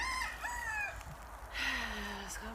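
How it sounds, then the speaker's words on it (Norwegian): Backyard hens cluck near a potato patch during an autumn harvest, and a rooster crows clearly midway through over a low steady hum. "Det er jo utrolig koselig med høns"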